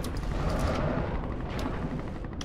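Weapons fire in a mech combat video game, a dense, loud, continuous barrage of booming shots with sharp bursts layered over a heavy rumble, with no voices.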